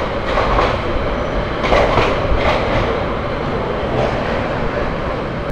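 The Parabat Express passenger train, with Chinese and Indonesian coaches, runs on rails toward Sylhet, making a loud continuous rumble with rhythmic wheel clatter heard close by.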